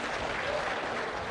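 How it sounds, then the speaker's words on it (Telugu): Audience applause at an on-stage government event, a dense, steady burst of clapping that fills the short moment at an even level with no pause. "గట్టిగా చప్పట్లు కొట్టి అభినందించండి"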